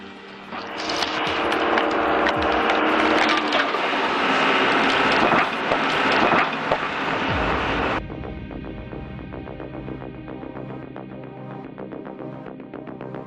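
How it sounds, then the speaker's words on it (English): A homemade chainsaw-style stump grinder chewing into a tree stump, a loud, dense grinding roar with a sweeping pitch drop, then cutting off abruptly to a quieter steady mechanical drone. "This grinder turns them into dust."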